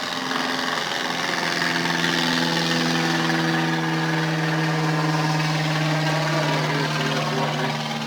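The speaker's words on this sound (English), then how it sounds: "definitely have aircraft taking off" A helicopter engine runs at rope rappel training, giving a sustained, steady droning hum with a whining harmonic tone that holds level throughout, fairly loud, with no voices present.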